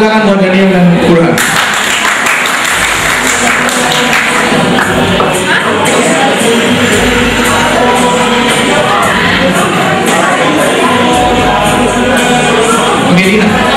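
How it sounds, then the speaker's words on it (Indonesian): Applause and cheering from a crowd at a live stage show of a mentalist's prediction act, the clapping running steadily for several seconds while people talk and laugh over it. "Tepuk tangan buat Daniel dan Burhan"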